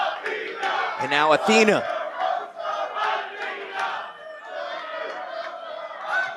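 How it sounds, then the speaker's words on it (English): Wrestling crowd at a Warrior Wrestling women's championship match roars and cheers steadily throughout, with an announcer's voice speaking over the din. "They're cheering even louder for Thunder Rosa"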